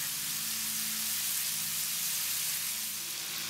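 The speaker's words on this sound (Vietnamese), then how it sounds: "Mình cho thịt phi lê vào trong chảo rồi mình chiên cho nó vàng" Pork tenderloin fillets fry in butter in a pan, giving a steady, even sizzle with a low hum underneath that holds for the whole stretch.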